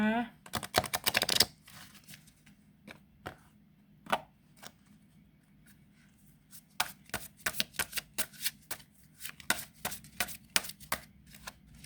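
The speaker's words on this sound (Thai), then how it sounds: "เวลาสับไพ่เนี่ยจะนึกถึงคุณคุณจำเนียน" Tarot cards being shuffled close by, with a dense riffle at the start, then scattered taps and a run of quick crisp snapping shuffles in the second half, over a quiet hum.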